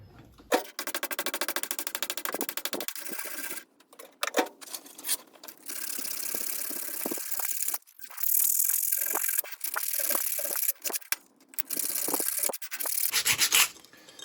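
Old electrolyte and crud are scrubbed off welder parts in bursts of harsh, gritty rubbing and brushing strokes, starting and stopping irregularly at close range with no talking.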